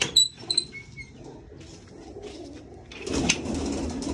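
Soft pigeon cooing, from a pigeon kept with fantail pigeons, and a few bird calls near the start, followed by quiet background rustling and a louder burst of noise toward the end.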